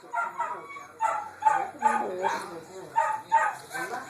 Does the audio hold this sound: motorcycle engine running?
no